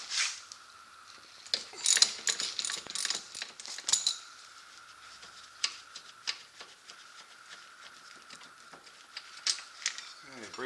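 A ratchet wrench clicks in quick rattling bursts while removing brake caliper bolts on a muddy Can-Am Outlander XMR, close and fairly quiet, with a person speaking intermittently.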